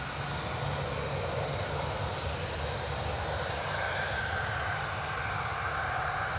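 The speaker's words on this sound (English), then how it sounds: "You can probably hear a bit more engine noise. That is the Tui departure now stretching its legs." A TUI airliner departing the airport roars as a broad, steady engine rumble at a moderate distance, sustained without a break and with no voices over it.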